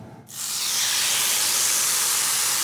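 After a brief quiet moment, a loud, steady hiss of chicken thigh fillets sizzling on a hot grill starts abruptly and continues without pause.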